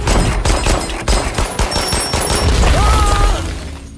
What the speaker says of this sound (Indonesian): Hingga pada akhirnya terjadilah kontak tembak di antara mereka.